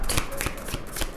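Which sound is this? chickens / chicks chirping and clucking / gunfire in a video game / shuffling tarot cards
shuffling tarot cards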